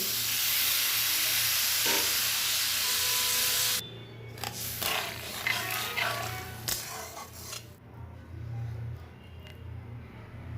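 Loud hissing sizzle as water is poured into a pan of frying okra and potatoes in a spiced vegetable curry, the burst dropping abruptly to quieter bubbling and clinks.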